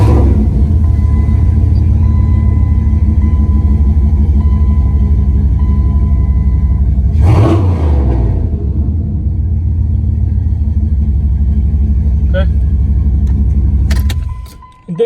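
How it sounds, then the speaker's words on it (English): A 1999 Dodge Ram pickup engine runs steadily with a loud low rumble, a brief burst of cranking or revving partway through, then idles on before cutting off near the end. "The car will crank right up now that we turn off the alarm."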